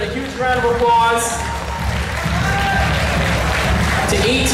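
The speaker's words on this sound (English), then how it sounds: "a huge round of applause" Audience applause and crowd noise fill a robotics competition venue at an FTC regional qualifier, a steady wash of clapping with an announcer's voice talking over it throughout.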